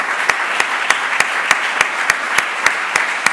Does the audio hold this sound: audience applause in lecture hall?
yes